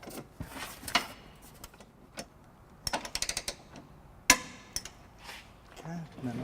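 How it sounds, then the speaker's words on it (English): Torque wrench with a 19mm socket tightening trailer hitch bolts on a 2013 Scion xB, heard as scattered close mechanical clicks and taps, with a quick cluster of ratchet-like clicks in the middle and a sharp knock later, over quiet room tone. "we have our torque wrench here with our 19mm socket, and we're just going to go ahead and torque"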